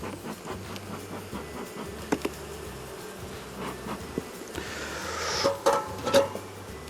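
Honeybees buzz in a hive after a storm, a low, steady droning hum close by, with occasional handling knocks and a brief louder rustle near the end.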